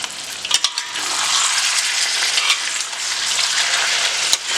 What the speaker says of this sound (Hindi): अब इसे तेज आंच के ऊपर हम 5 मिनट भून लेंगे